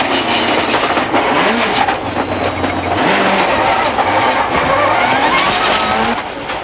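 Rally car at the 1997 Coffs Harbour Rally spinning on a gravel special stage, engine note rising and falling under a dense, continuous roar of gravel and road noise, loud and close throughout.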